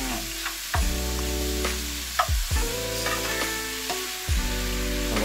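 Vegetables sauté in a hot pan for a healthy vegetable meal, a steady loud sizzle broken by several sharp stirring scrapes and clanks, no voices.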